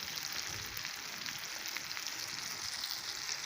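An egg omelette frying in a pan, cooking on its second side, with a steady, close sizzle and crackle that runs evenly throughout without any talk.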